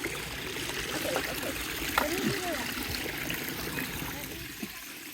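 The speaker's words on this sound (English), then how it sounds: "That's my waterfall filter box." Water trickles and splashes steadily into a koi pond's waterfall filter box outdoors, a continuous close gurgling stream with faint murmured voices and a few brief sounds in the background.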